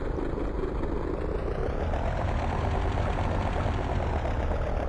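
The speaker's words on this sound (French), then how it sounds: "Le moteur a déjà démarré, on n'entend pas beaucoup le moteur." Simulated DR400 light aircraft piston engine running in the X-Plane flight simulator, a steady, continuous low drone with a faint whine above it, unchanging and fairly quiet throughout.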